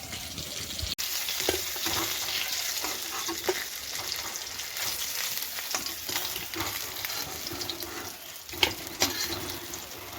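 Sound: fish frying in a pan

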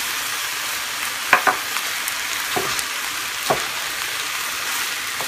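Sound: seafood rice frying and being stirred on stove

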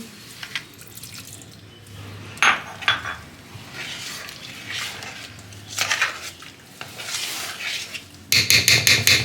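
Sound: pouring water rinsed from curd bowl into batter

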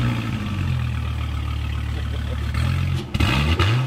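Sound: V10 sports car engine starting

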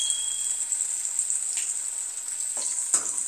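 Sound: viral (snakehead) fish pieces frying in hot oil

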